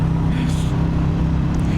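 A Royal Enfield Bullet 350 motorcycle engine runs close by with a steady, low, throbbing drone that holds evenly for the whole stretch, with no other sound standing out.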